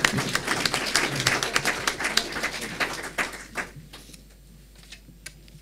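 Dense audience applause after a presentation at a conference gathering, loud crisp clapping for about three and a half seconds before thinning into a few scattered claps and fading out.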